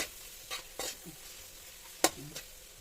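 Pancit bihon with black pepper is stirred in a pan: a few quiet, separate scraping strokes against a faint sizzle, with pauses between them and no voices.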